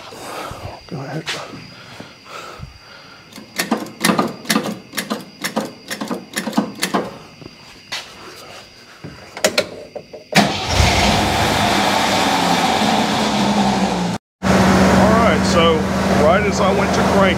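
A Jeep CJ5 with carburetor trouble cranks over in a series of uneven clicks and thumps, then catches and runs with a steady loud roar that idles on after a brief cutoff, with people talking nearby.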